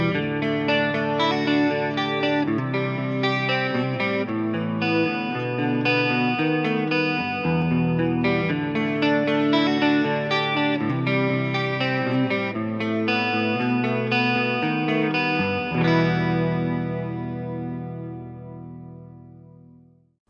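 Electric guitar chords played through an effects unit with an enhancer block, shimmering with chorus and a light crunch, then a final chord that rings out and fades into reverb.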